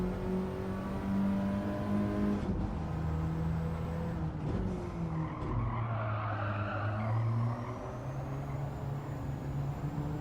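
Race car tires skidding and squealing under late braking on the Nürburgring in a racing video game time trial, with a steady engine drone throughout and a brief scrub of tire noise in the middle.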